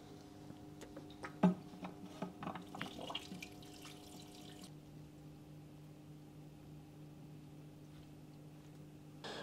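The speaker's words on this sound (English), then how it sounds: "Okay, so the tank is all filled up with water" Tap water running into a newly set-up saltwater aquarium tank: a faint, steady flow with a few light splashes and drips early on, then settling into a quiet, continuous hum-like trickle.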